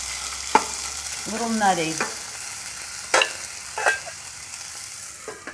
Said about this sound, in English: I'm gonna add the beans to this one. That's a little sizzle, that's nice.